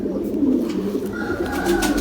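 Highflyer pigeons in a breeding loft coo nearby in a loud, continuous low warble, with a few faint higher chirps in the background.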